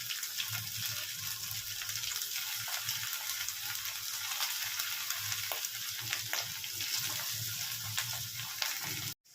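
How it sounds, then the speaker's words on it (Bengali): Marinated chicken pieces for chilli chicken frying in hot oil over a lowered gas flame, a continuous dense sizzle and crackle close by, with no talking. "আমি এবার তেলের মধ্যে চিকেনগুলোকে ছেড়ে দিচ্ছি।"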